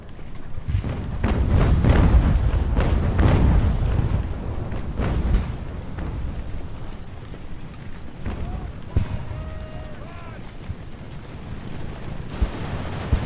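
Cannons booming in a battle in Ultimate General: American Revolution, several heavy blasts rolling together early on, then fading into scattered distant reports with lighter crackling toward the end.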